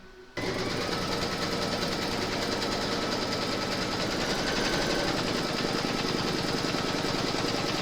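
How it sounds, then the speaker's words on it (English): An embroidery machine running steadily, stitching a placement outline for the batting of a shamrock pot holder, a loud continuous whirring, rapid needle hum starting abruptly and holding at an even level throughout. "then you're going to stitch round number 1, and that's going to give you your placement outline for your batting"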